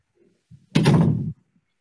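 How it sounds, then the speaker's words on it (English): A door in an old-time radio drama opens with a short creak and a solid wooden thump, close and alone in near silence. "Open the door."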